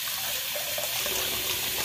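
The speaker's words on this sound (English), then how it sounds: "So right now, I'm going to water my bowl." Water runs from a tap into a shaving bowl to warm it for lather, a steady, loud continuous splashing rush with no pauses.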